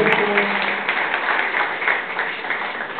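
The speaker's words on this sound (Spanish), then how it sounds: "regalándonos entre todos un gran aplauso" Applause from an audience at a celebration marking the opening of a new venue and a book launch in Cali, a dense steady patter of clapping lasting throughout, fairly loud with a faint voice briefly over it.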